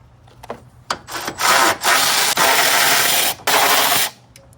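Bolts of the hood latch being worked loose on a 2007-2011 Honda CR-V, a few harsh bursts of rapid ratchet-like rasping close up, separated by short pauses, with no speech.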